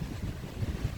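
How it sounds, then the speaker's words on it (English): Strong wind in a garden buffets the microphone with a low, steady roar and rumbling gusts, no voices present. "it's very, very windy out here"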